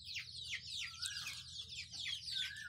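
Black chickens cluck and call continuously on a small local poultry farm in Lakhimpur, Assam, with several birds overlapping close by over a low steady background hum.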